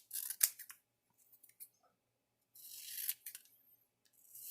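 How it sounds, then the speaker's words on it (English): Scissors snip through excess vinyl sticker material in a quiet room, with one sharp cut, a few faint ticks, then a longer soft slicing pass followed by another rustling cut. "I'm going to trim off my"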